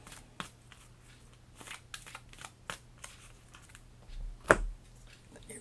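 Cards for the Kingdom Death: Monster board game are shuffled close by in quick, irregular flicks and riffles, with a louder snap near the end; no one speaks.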